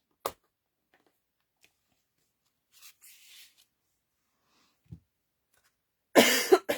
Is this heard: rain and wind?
no